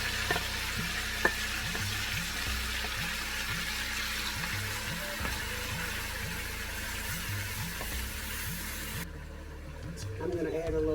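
Hamburger meat with onion, celery and carrot frying in a pot, a steady broadband sizzle running throughout with a faint rhythmic ticking underneath, easing slightly near the end.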